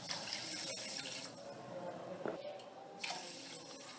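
Water from a tap pours onto sugar in a pan for rasmalai syrup, a steady close splashing stream with a few brief clinks and shifts, no voices.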